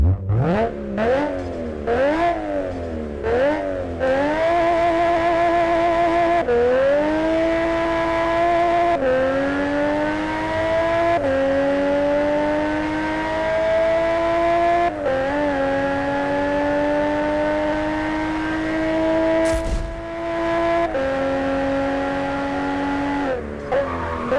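Nissan Skyline R34 GT-R in the video game JDM Japanese Drift Master, engine revving hard through repeated upshifts, each gear climbing steadily in pitch with brief drops between, loud and close throughout.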